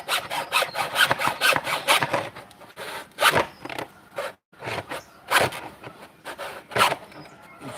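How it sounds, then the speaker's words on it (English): A hacksaw cuts through wood outdoors, its strokes coming as repeated rasping bursts in an uneven rhythm, with brief pauses between runs of back-and-forth sawing. "Sometimes the hacksaw is easier than the wood saw"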